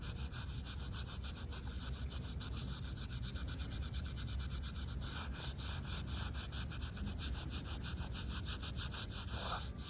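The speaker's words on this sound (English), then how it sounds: "I'm going to do just a little bit more scrubbing here" Steady scrubbing of a headstone carved with two crosses during graveyard cleaning, a brush rubbing stone in a continuous close, even rhythm with no talking.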